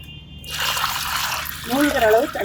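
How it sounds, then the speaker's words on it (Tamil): Water is poured over homemade organic fertilizer ingredients in a container, a gushing, splashing fill that then turns to bubbling gurgles, with a voice speaking over it. "இப்போ இதை வந்து மூழ்கிற அளவு தண்ணி ஊற்றிட்டு"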